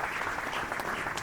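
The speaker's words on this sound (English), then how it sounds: "Could we have a big round of applause?" Audience applause at a literature festival speakers' session in honour of Lieutenant General Mohinder Puri, retired: a short, full burst of many people clapping together, dense and fairly loud, with no talking over it.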